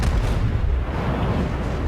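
Heavy, sustained booming rumble of the Fuso battleship's main guns firing in World of Warships, a dense low roar filling the whole moment without a break.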